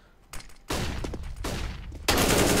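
Gunfire in a Counter-Strike match on the Cobblestone map, with bursts of loud rifle shots and sustained rattling volleys close by, growing more intense toward the end.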